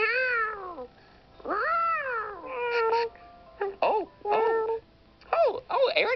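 A cat meows repeatedly and close by, a series of drawn-out, wavering cries broken by short pauses, some rising and falling in pitch and others clipped and quick.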